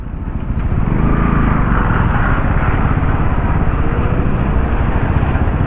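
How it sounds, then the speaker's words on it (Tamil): Dense road traffic hums and rumbles close by, with motorcycle engines idling and revving among cars in a jammed street, a steady loud mechanical drone throughout. "இதுதான் சாலை நெரிசல்."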